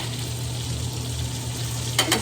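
Ribeye steak pan-seared in a hot pan sizzles in a steady, close, continuous hiss, with a couple of brief louder crackles near the end and no talking.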